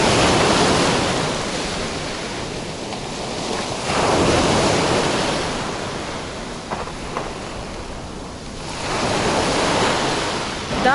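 On a chilly day by the Black Sea shore at Alushta in Crimea, waves wash onto the beach in slow, surging swells. Each broad hiss rises and recedes, with some wind buffeting the microphone and no voices present.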